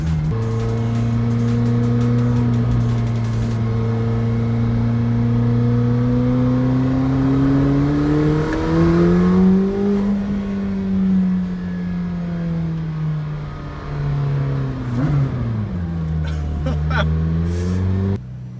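A McLaren Senna's engine drones loudly and continuously while driving, its pitch climbing gradually, dipping, then surging and falling again as revs change.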